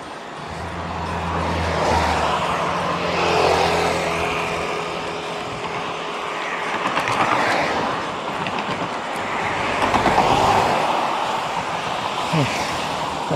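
Cars pass on a two-lane road with a low, steady rumble and swelling whooshes as vehicles go by close.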